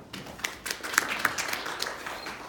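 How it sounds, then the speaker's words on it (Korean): Audience applause at a Sony RX series camera launch presentation, a scattered burst of individual claps that is fairly close and thins out toward the end. "박수로 맞이해 주시기 바랍니다"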